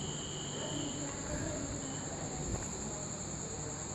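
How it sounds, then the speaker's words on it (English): A security alarm's electronic buzzer emits a steady, high-pitched continuous tone over faint background noise, unbroken throughout. "the buzzer which is situated inside the home is buzzing"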